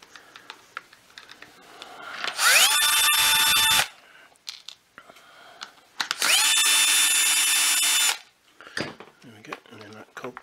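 Battery power screwdriver backing out two screws from the brush roll cog of a Shark DuoClean PowerFins IZ300UK vacuum power nozzle, two loud whirring bursts of about a second and two seconds, close, separated by small clicks and handling.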